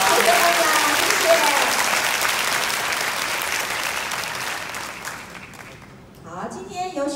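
Sustained applause from an audience in the Taiwan Railway building's fifth-floor auditorium during its 131st anniversary celebration, dense clapping that slowly thins and fades before a voice begins speaking near the end.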